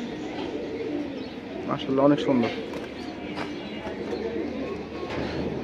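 Pigeons from a flying-pigeon collection coo softly nearby in low, rolling bursts while a person talks over them.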